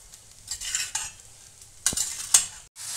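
Sabudana khichadi stirred in a pan over low heat, a few close scraping strokes with brief clinks between quieter pauses, fairly soft, no voices.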